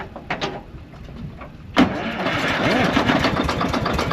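Cold start of an HD5 crawler engine, with the starter cranking briefly before the engine catches at once and settles into a steady, loud, rough-running roar that carries on to the end.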